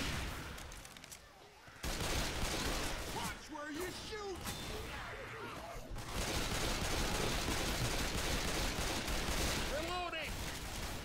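Sustained gunfire in the video game Left 4 Dead 2, loud and dense, with shouted voices breaking in over the shooting at a few points.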